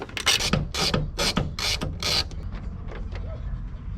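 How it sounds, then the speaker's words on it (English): A ratchet wrench loosens a 10 mm bolt on a carbon fiber hood strut, making about five crisp bursts of rapid clicking close up, then fading to quieter mechanical fiddling. "This bolt right here is a 10 mil. Pretty simple to take off."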